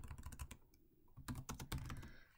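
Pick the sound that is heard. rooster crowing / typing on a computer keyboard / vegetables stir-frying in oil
typing on a computer keyboard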